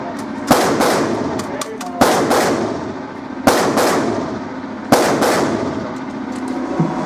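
Several sharp, loud gunshots fired at an indoor shooting range, each a hard crack with a short echoing tail, spaced irregularly a second or two apart, with people talking faintly in the background.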